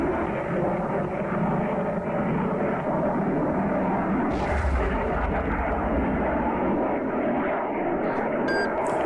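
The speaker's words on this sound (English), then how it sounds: "Aircraft dropping." Aircraft fly overhead in the naval combat game Cold Waters, a steady, dense roar of engines holding loud and constant, with a brief surge midway and faint electronic beeps near the end.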